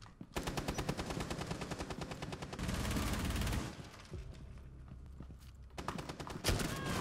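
Rapid, loud shotgun blasts in a ranked video game match ring out in a dense rhythmic volley, then thinner, more scattered shots follow, with a heavy boom near the end.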